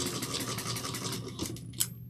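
A sewing machine top stitches a tote bag in a short burst of quick, rhythmic needle strokes, faint and close, ending with a small click and no voices.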